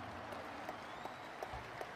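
Applause from a crowd at a political party speech, a steady wash of many hands clapping held at a moderate, somewhat distant level throughout.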